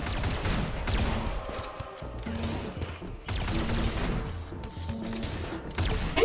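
Bursts of rapid gunfire from a RimWorld Warhammer 40k battle against zombies and Necrons, dense crackling volleys repeating in waves across the whole stretch with heavy low thumps underneath.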